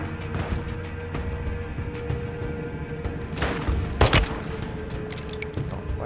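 Sustained gunfire in Call of Duty Modern Warfare II Warzone, a fusillade of rapid shots with a louder burst of heavy blasts midway, continuous and close.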